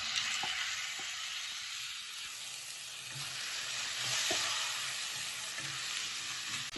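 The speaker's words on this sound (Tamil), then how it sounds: "வெங்காயம் தக்காளி நல்லா வதங்கிடுச்சு." Onions and tomatoes frying in a pan with ginger-garlic paste for chicken thokku, a steady close sizzle and hiss with a few soft knocks of stirring, no talking.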